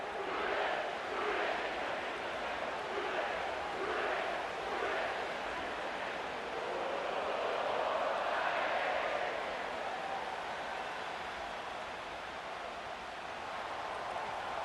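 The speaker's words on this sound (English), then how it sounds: "you can already hear this home crowd rallying in support of that upset" A home crowd roars steadily in a packed NFL football stadium before a Ravens–Bengals game at Paycor Stadium, a broad, continuous wash of cheering that swells and surges without letting up.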